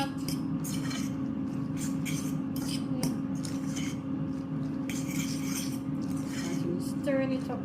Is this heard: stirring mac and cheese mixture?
yes